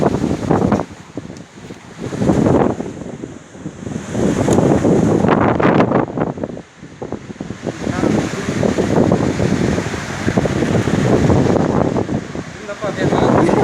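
Strong storm wind gusting hard against the microphone near a swaying crane during a tornado, a loud continuous roar rising and falling in waves, with voices talking over it at times.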